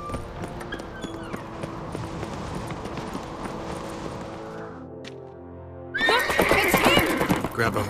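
Horse in The Witcher 3 gives a loud whinny near the end, after a stretch of clip-clopping hooves under music, with a quiet pause just before the neigh.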